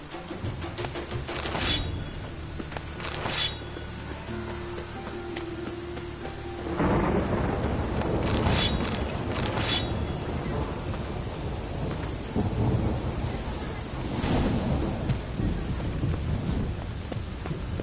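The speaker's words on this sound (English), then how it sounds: "A storm, damn it." Thunderstorm in The Witcher 3 game: rolling thunder claps crack and rumble over steady loud rain, with several bursts spread through the stretch and no talk.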